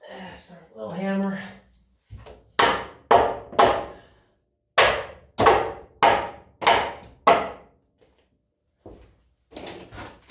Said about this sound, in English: Start a little hammer.